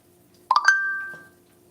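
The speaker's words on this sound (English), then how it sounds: "Somebody just went live. That's what that sound was." A phone notification chime announcing that someone went live sounds in a home kitchen where catfish is being fried: a quick cluster of bright chiming notes, then a sustained ringing tone that fades over about a second, clear and alone.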